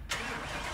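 A car engine in Car Mechanic Simulator 2018 catches abruptly and settles straight into a steady running hum, heard alone for under a second.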